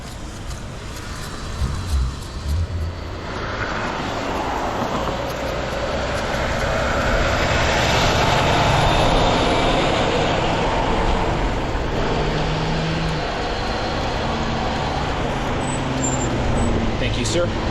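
Steady road traffic rumbling past at night beside an e-bike ride, a continuous broadband wash of passing vehicles that swells in the middle, with a voice talking early on.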